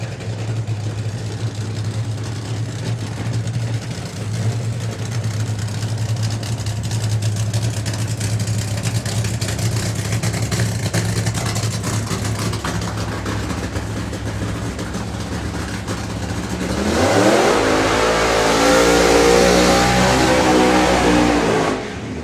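A Nitro Pontiac drag racing car with a throttle stop idles with a low steady rumble, then revs sharply near the end, the engine roaring louder and rising in pitch at a drag strip.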